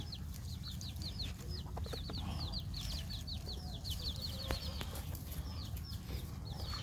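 Chickens cluck and chatter steadily outdoors, with repeated short calls from several birds over a constant low background rumble.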